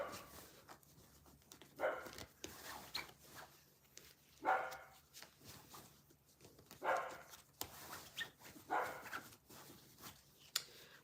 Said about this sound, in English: Sorry for the dog barking, if you can hear that.